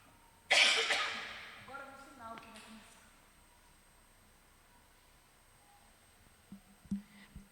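A preacher gives one sharp, loud cough at a church family celebration service, followed by faint throat sounds and a few soft voice fragments fading into quiet room tone.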